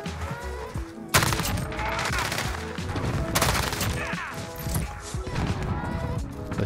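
Rapid bursts of M13 assault rifle fire in the Modern Warfare multiplayer video game, Galapagos setup, fairly close and sharp, in repeated strings over game background noise.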